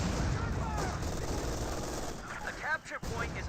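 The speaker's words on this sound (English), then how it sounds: "Grenadiers do get suppressed there by 50 cal" A .50 cal machine gun in a Company of Heroes 2 battle pours out continuous loud bursts of rapid fire, with dense battlefield noise and clattering throughout.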